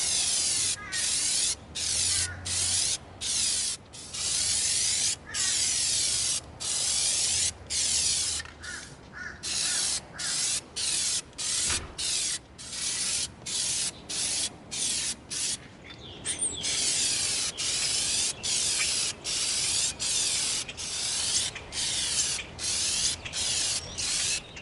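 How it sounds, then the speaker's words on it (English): Plastidip coating hisses from an aerosol can onto an EVA foam boomerang in rapid repeated bursts, short sprays separated by brief pauses, close and steady throughout with no voices. "We are going to coat our boomerang with our Plastidip."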